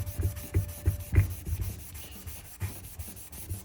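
Red Scotch-Brite pad scrubbing belt dust off the face of a Ski-Doo P-drive snowmobile clutch, a series of soft rhythmic rubbing strokes close by, with no voices.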